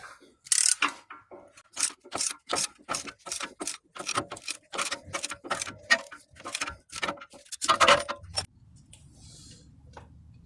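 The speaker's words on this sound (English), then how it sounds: "I am going to be using a butterfly caliper press tool" Butterfly caliper press tool compressing the front brake caliper piston on a 2015 Acura MDX during a pad replacement, a close run of rapid ratcheting clicks for about eight seconds, then a faint softer mechanical rattle.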